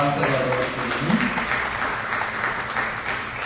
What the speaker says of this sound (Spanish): Dale fuerte el aplauso al Señor en alabanza y adoración.